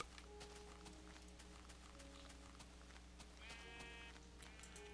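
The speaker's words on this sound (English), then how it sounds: "Come here, sheep." Sheep bleat in the Minecraft video game over a steady drone of game ambience and music, with a couple of short bleats near the end of the stretch.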